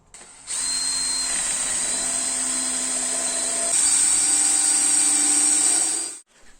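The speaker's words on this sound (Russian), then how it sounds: "Теперь берем дощечку, выставляем ее четко по линии. Сразу засверливаем." A power drill bores into a wooden board lined up for screwing in a home workshop, giving one loud, steady whine for about six seconds that shifts pitch slightly partway through, then stops abruptly, with no talking.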